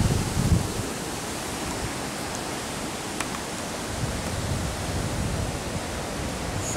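Storm wind at Mount Keira roars as a dense, steady broadband rush, loud and continuous, with a faint tap partway through and no voices.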